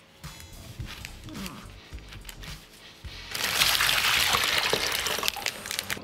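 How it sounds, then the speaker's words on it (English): Water is poured into a Ziploc plastic bag, a faint trickling at first that swells into a fuller, hissing gush of liquid close by, with light handling noises and no speech. "Let's begin by putting the water in the Ziploc bag."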